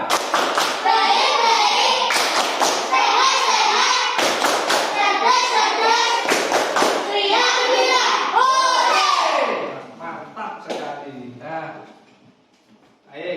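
Children in a classroom perform the 'tepuk apa kabar' clapping chant, sharp group claps punctuating their loud chanted voices in a lively rhythm before the noise fades into quieter murmurs.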